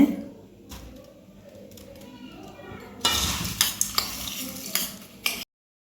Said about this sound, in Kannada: ಈ ಒಗ್ಗರಣೆ ಏನೈತಲ್ಲ ಇದನ್ನು ಹಾಕ್ಕೊಳ್ತಾ ಇದ್ದೀನಿ ಫಸ್ಟಿಗೆ